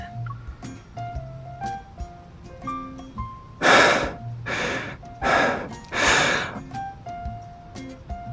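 A voice actor pants heavily, catching breath after running to a lake in the game Love and Deepspace: four loud, close, breathy gasps in a steady rhythm over soft background music.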